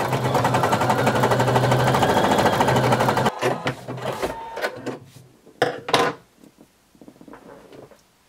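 A sewing machine zigzag-stitches elastic onto swimsuit bottoms, running in a fast, steady whir for about three seconds. Then come a few short bursts and clicks before it falls quiet.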